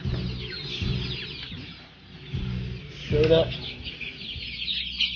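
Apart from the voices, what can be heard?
Turkish roosters and chickens clucking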